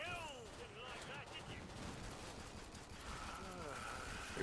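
Gunfire and a grenade blast in Killing Floor 2 come as a continuous, dense battle rattle of shots with a few sharper bursts, all under excited voices talking throughout.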